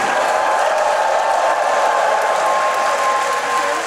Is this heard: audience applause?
yes